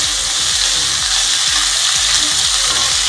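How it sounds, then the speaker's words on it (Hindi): Potatoes frying on a high flame hiss in a loud, dense, unbroken sizzle, close up, with faint low knocks beneath and no talking. "तो गाइज इसी तरह से मैं पोटैटोज को भी फ्राई करूँगी"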